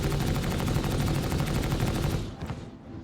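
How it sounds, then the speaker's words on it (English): Rapid bursts of spaceship top-gun fire in the Starlancer space combat game, a dense, loud stream of evenly spaced shots that rattles continuously before cutting off and trailing into a quieter tail. "So that's gonna fire our top guns."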